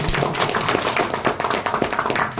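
Audience applause in a Kolkata hotel ballroom at a seminar event, dense claps with an irregular rhythm filling the whole stretch, fairly loud and near.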